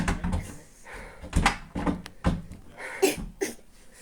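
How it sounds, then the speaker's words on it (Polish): A house door being broken down during a police raid, heard as a series of loud, heavy thuds and bangs at irregular intervals over a dull background, with no clear talking. "Rozwalają mi drzwi."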